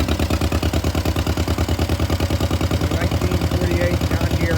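A 1948 John Deere M tractor engine runs close by with a steady, rhythmic low chugging and clattering, loud and even throughout.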